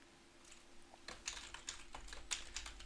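Typing on a computer keyboard, a quick irregular run of close key clicks that entering a short title might produce, quiet but clear against low room hum.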